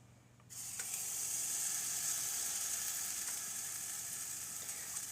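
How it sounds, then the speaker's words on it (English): Pancake batter sizzles steadily in a large frying pan, a bright continuous hiss that starts abruptly and holds at an even level without talk. "I'm just going to cook it the way I would do a pancake"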